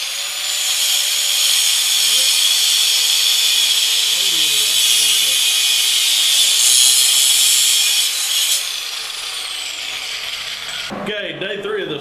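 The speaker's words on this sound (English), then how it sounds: "Now I'm cutting the heads up." A power tool cuts steadily through galvanized bolt heads in a shop for several seconds, a loud continuous grinding whine that eases slightly before stopping, followed by a brief clatter.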